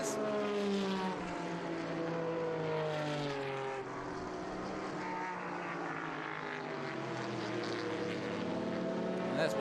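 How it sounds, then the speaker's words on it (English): A 1974 Porsche race car in a qualifying session passes with a steady, loud engine drone that rises and falls in pitch, running continuously throughout. "Ben McGraw, Chapel Hill, North Carolina, putting his Porsche through its paces."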